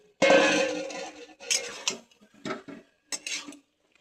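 The lid comes off a cooking pot of taro greens simmering over low heat, giving a sharp metallic clank followed by several lighter knocks and scrapes of metal against metal, close and intermittent with quiet gaps between.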